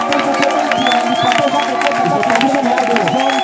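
A church congregation acclaiming together, a dense steady wash of voices, shouts and cheering with music-like tones underneath, loud and continuous throughout.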